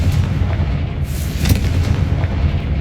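A Confringo fire blast spell in the Hogwarts Legacy video game lands as a loud, close, rumbling boom with a sharp burst in the middle, with a continuous heavy low roar throughout.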